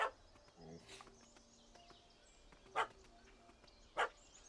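Several short dog barks and yips ring out in The Witcher 3, spaced apart over a quiet background. They are moderately loud, and a faint voice is heard between them.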